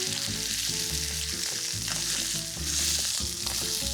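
A steak sears on its fat cap side in a hot cast iron pan with avocado oil, giving a continuous bright hiss of sizzling under steady tonal background music.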